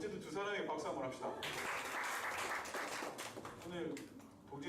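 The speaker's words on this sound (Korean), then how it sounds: "두 사람에게 박수 한번 합시다." A church youth congregation claps together in a short burst of applause that swells and fades, mixed with voices speaking over and around it.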